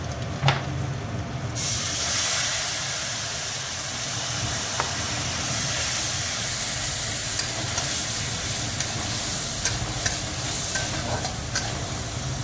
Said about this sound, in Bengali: আদা জিরে দিয়ে দিলাম। মশলাটা পুড়ে না যায় দেবো একটু জল।